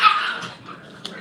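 Small dogs scuffling indoors, a loud sharp yelp and growl at the start fading into low grumbling, then a brief bark near the end.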